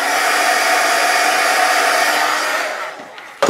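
Heat gun melting embossing powder on gel prints on deli paper, a steady loud airy blowing roar held throughout, easing slightly before it cuts off with a click at the end.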